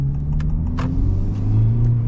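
A Honda Civic Type R FL5 idles while warming up, giving a steady close low rumble with a faint hum and a few brief light clicks, no voices.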